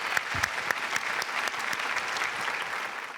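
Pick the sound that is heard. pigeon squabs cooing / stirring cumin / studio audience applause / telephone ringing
studio audience applause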